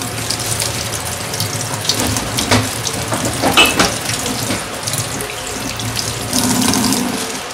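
Water from a kitchen tap runs steadily into a sink while squid with burst ink sacs are rinsed under it. Splashes and clatter come up close, with brief louder bursts as the squid is handled in the stream.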